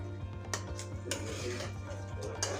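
Chicken being stirred and cooked down in a pan, with repeated clinks and scrapes of a utensil against the metal over a steady low hum, fairly close and without talk.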